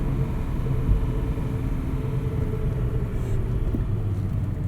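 A 1971 Datsun 240Z cruising along, its steady low engine and road rumble filling the cabin at a constant level throughout, with no voices.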